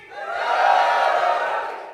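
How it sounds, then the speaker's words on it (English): A crowd at an award ceremony breaks into loud whooping, cheering and shouting all at once. The noise swells quickly, holds for about two seconds and then fades a little. "The third noise I need is whooping and cheering"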